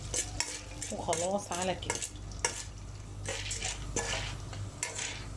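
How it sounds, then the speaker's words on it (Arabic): Popcorn kernels with oil and a little salt are stirred in a pot, with repeated scraping and clinking of a utensil against metal over a low sizzle, while a person speaks briefly. "واحنا بقى بنقلب ذرة الفشار كده"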